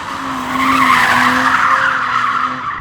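The tyres of a new BMW M3 Competition or Audi RS4 Avant squeal loudly in one continuous, close screech as the car slides out through a corner under throttle, with no voices.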